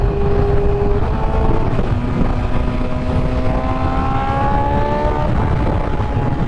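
A 2020 BMW S1000RR liter sport bike is being ridden, and its engine drones loudly and steadily close by. The pitch climbs gradually as the revs rise, over a continuous rumble of wind and road noise.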